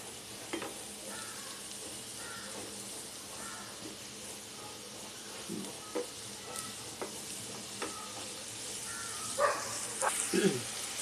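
Tomatoes fry in a pan over medium gas for a fresh jawla (tiny dried shrimp) chutney, heard as a soft sizzle with intermittent stirring clatter and utensil knocks that grow busier toward the end, with a voice nearby.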